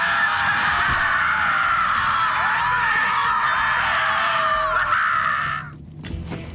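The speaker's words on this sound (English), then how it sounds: "Do you hear screaming" Screaming in the video game Borderlands 3, a loud sustained wailing chorus of shrill, many-voiced screams lasting several seconds before cutting off abruptly, followed by quieter noise.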